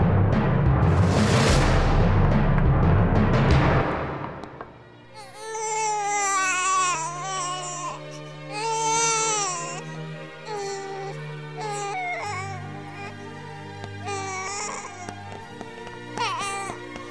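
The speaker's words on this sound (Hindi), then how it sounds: "के भयो हेर्न बच्चा रोको रहेछ" An infant cries loudly and close by for about four seconds in a Nepali village home setting, then falls quiet as a tonal music score takes over.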